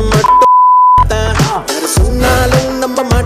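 A loud, steady censor beep tone lasting most of a second cuts into a song with vocals and instruments, which continue around it.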